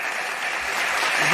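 A short burst of audience applause for a talk show panel, dense clapping that holds steady and swells slightly toward the end.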